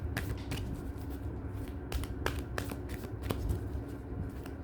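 Tarot cards are shuffled and drawn in a quiet room, with crisp riffling and sharp card snaps repeating at an uneven pace and no talking.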